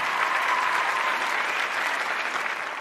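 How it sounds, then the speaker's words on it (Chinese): Crowd applauding a fighter from Ukraine being introduced at a flyweight cage-fighting tournament, a steady, even wash of clapping from a large audience, fairly distant and unbroken. "让我们掌声送给来自乌克兰的米吉塔·萨彭"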